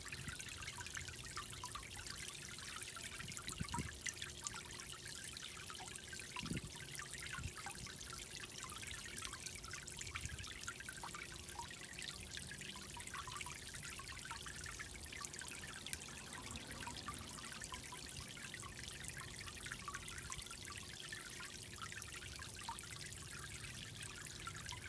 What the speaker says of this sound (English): they like to hide under this waterfall